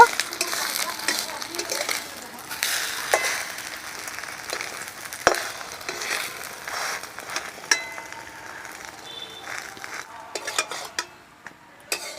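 Egg-dipped bread slices fry in a wok with a light, uneven sizzle, broken by clinks and scrapes of a utensil against the metal, close and varying in loudness.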